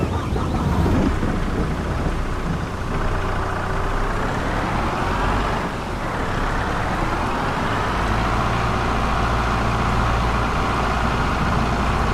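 Steady rain in Farming Simulator 22 on an Ohio farm, a continuous broadband hiss with low rumbling beneath it, unbroken and fairly loud throughout with no talking.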